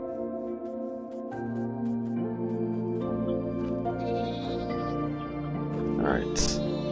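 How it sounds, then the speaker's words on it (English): Goats bleating in The Aether II video game, a few drawn-out bleats over steady game background tones, with a person talking over them. "let me kill these goats"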